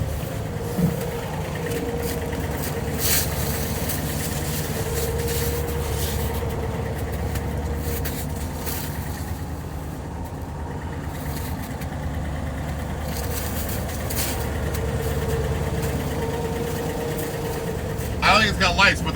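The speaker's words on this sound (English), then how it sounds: "The old fire truck." Engine of an old fire truck idling nearby, a steady low rumble running continuously while people talk over it.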